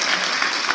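Applause for the Seoul mayor at a Democratic Party new members' academy event, a brief dense burst of clapping from a crowd, loud and continuous for under a second.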